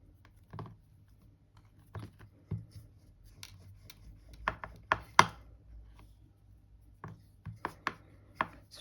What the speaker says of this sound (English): And cut and stack it a second time.